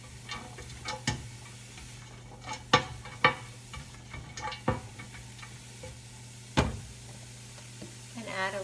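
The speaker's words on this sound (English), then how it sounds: "Then I just frequently stir it." Intermittent scraping and clinking of a spoon stirring turkey bone broth soup in a pot, a handful of sharp taps spread irregularly over a steady low hum, close and moderately quiet.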